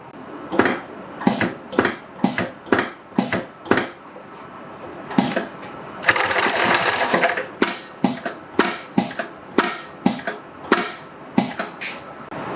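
Highlead GC20618-2DZA double-needle industrial sewing machine, a Durkopp-style unit, working in short, evenly spaced mechanical bursts roughly twice a second, with one longer, hissing run partway through, close and fairly loud.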